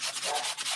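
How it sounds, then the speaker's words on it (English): Close, steady rubbing strokes of sandpaper on lightweight cardstock during card making, a dry rhythmic scratching repeated several times with no talking. "I won't talk when I'm sanding."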